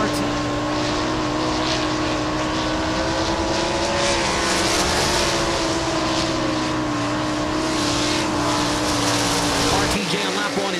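Sprint race car number 71 RT with a Charlie Garrett Racing engine lapping a dirt racetrack, a loud sustained engine roar with a shifting pitch that drops away near the end.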